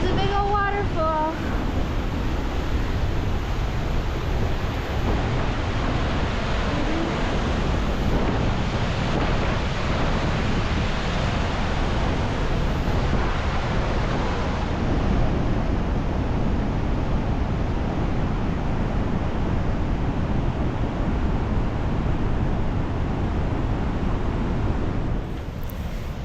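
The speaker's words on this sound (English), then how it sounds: "there's a big old waterfall." A big waterfall on the Mist Trail in Yosemite gives off a steady, loud, broadband roar of rushing water that fills the whole stretch without a break, heard up close in the dark.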